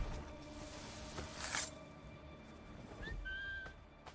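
A character whistles in Assassin's Creed 3, a short bright whistle over steady game ambience with a brief noisy burst just before.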